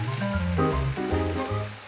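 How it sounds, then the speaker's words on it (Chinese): Bok choy stir-fried in a wok with shiitake mushrooms, tofu skin and sesame oil, a steady close sizzle with light scraping as the ingredients are tossed. "刚才用盐巴抓过的青江菜拧干之后， 加入锅中一起翻炒。"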